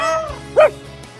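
A rescued parrot imitating a dog, giving one short, clear bark-like yelp close by, preceded by a brief whine-like tone.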